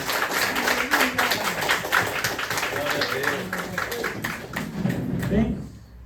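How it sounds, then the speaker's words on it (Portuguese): Church congregation clapping for Jesus during a worship service, a dense, steady wash of hand claps lasting several seconds at moderate level, with murmuring voices underneath and fading toward the end. "Uma salva de palmas para o Senhor Jesus."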